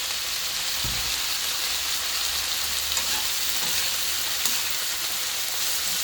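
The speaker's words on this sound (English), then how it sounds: "now what I'm going to do is I'm nicely going to stir it together." A vegetable stir fry with a splash of vinegar crackles in a hot pan, its steady sizzle joined by a few soft stirring thumps and scrapes at close range.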